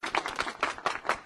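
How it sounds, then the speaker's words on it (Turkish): A small crowd claps in a quick, fairly even rhythm at a ribbon-cutting ceremony, the applause close by and short-lived. "alkışları bir alalım"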